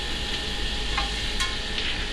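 Big lumps of butter frying in a pan, a steady close sizzle with a couple of faint utensil scrapes and no talk.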